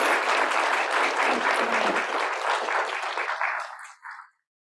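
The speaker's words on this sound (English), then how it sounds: "But let's give them a round of applause." Enthusiastic audience applause after a panel session, dense and loud for a few seconds, then tapering off quickly with a couple of last claps.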